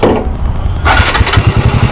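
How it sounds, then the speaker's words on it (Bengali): A TVS Radeon motorcycle engine is kicked into life, a brief cranking followed by the engine catching and settling into a rapid, throbbing idle, loud and close. "মোটরসাইকেল স্টার্ট নিল।"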